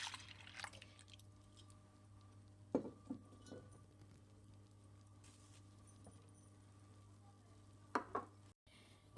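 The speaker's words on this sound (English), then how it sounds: "in a pot, mix your milk and your milk powder." Milk and milk powder being stirred together in a pot for homemade paneer: a few short, close scrapes and clinks of a utensil against the pot spaced across a steady low background hum, with no talking.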